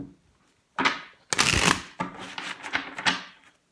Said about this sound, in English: Just one more shuffle for Gemini